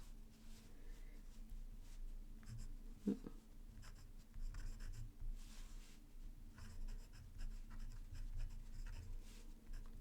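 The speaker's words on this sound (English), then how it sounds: "So you can do some drawing and writing with this nib." A fountain pen nib scratches faintly across paper in short, irregular strokes while writing and drawing, quiet and close.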